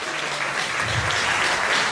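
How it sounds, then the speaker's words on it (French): Brief burst of audience applause for a woman named Gaëlle, a steady wash of clapping at moderate level filling the short moment. "Des applaudissements pour elle."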